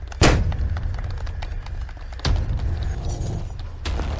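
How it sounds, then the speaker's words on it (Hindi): Firecrackers set off at a celebratory welcome, two loud sharp bangs about two seconds apart, then a third softer pop, each followed by a lingering crackling rumble. "पटाखे छोड़ो।"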